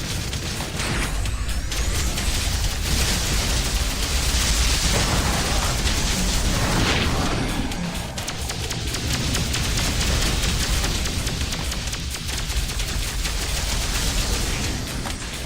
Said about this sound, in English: I like how that cannon speeds up its firing rate as you hold the... It's kind of like a rotary cannon, right?